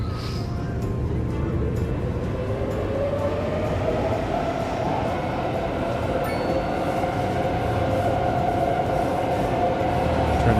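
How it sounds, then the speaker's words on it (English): A bustling train in the video game Cities Skylines 2 passes with a loud, continuous rumble and rattling wheel noise that holds steady throughout, with no talk. "Bustling train."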